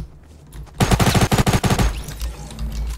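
Tactical shotgun fire in the Fortnite video game: a loud, rapid string of about a dozen close sharp blasts crammed into roughly one second, followed by a quieter rumbling tail.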